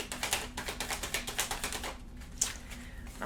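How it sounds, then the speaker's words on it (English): Tarot cards being shuffled and flung during a reading, giving a close, quiet run of rapid riffling flicks that thins out into a few separate slaps. "Wouldn't be a reading if I didn't fling a couple cards."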